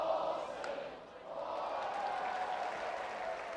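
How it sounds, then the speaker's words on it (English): A college baseball crowd at a Tarleton State versus Texas A&M game gives a Bronx cheer, a steady, moderately distant wash of booing and jeering voices that dips briefly and then swells again. "Bronx cheer right there"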